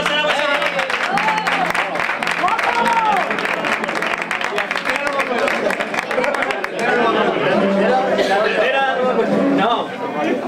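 Audience at a carnival chirigota performance in a peña applauds and chatters steadily, a dense, continuous wash of clapping mixed with crowd voices.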